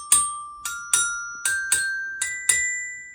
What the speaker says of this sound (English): Here's the sound of the Glockenspiel.